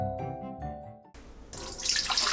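About 1.5 litres of water poured into a bowl, a bright running splash that builds and grows louder, following a brief tonal sound at the start, close and without talk.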